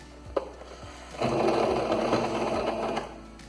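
A domestic sewing machine stitches slowly through thick dish towel fabric. A quiet tap comes first, then a loud, steady whirring run for about two seconds, close up and with no talk.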